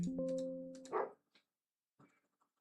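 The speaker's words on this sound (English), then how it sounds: "I have a dog outside." A dog barks outdoors, a couple of muffled woofs and yips at moderate distance, followed by quieter scattered sounds and near silence.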